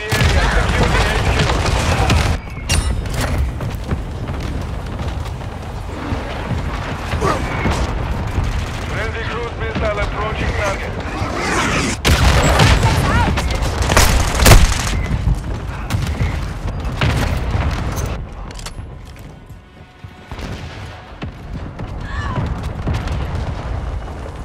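Repeated mortar strike blasts and gunfire in Call of Duty: Modern Warfare II, booming impacts mixed with rattling shots throughout, under shouted in-game voice callouts.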